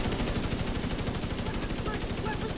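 Sustained automatic gunfire from The Division 2 video game, a dense, loud, rapid rhythm of shots that holds steady without pause.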